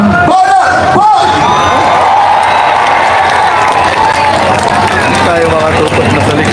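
A large crowd of Duterte supporters at an outdoor rally claps, cheers and whoops in a dense, continuous roar that stays loud for the whole stretch, with scattered shouts rising out of it.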